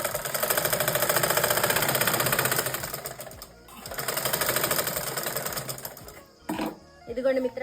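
Sewing machine double stitching the shoulder seam of a dress, fast steady rattling runs of stitching broken by short pauses, with a brief handling clatter near the end.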